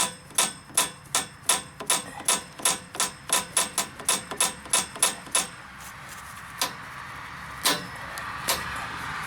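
Valves being popped on a vintage Sattley stationary engine, a fast run of sharp, evenly spaced knocking taps close by, about twenty in a row, then slowing to a few scattered clacks.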